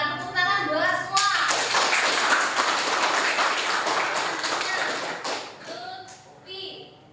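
Students in a classroom clap their hands together in a dense, steady burst lasting several seconds, close and fairly loud, then trailing off into a few scattered claps.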